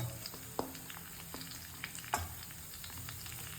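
Onion frying in chili paste in a pan, producing a quiet, continuous sizzle with occasional spatula knocks and scrapes against the cookware, and no talking.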